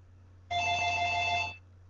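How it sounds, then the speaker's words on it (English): A mobile phone rings close by with one loud, steady electronic tone lasting about a second, then stops; no one speaks. "Oh, my phone."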